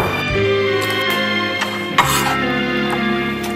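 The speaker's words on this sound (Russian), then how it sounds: "Теперь перекладываю все это в миску." Chopped mushroom filling and mozzarella being scraped into a bowl, with clinks and scrapes of a utensil against dishware and one sharper knock midway, close and moderately loud.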